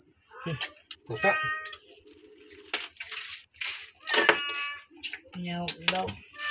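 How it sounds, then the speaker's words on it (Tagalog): A cat meows several times close by, its mewing cries breaking through a family dinner of soup and shellfish, with people talking over and between the calls. "Pusa."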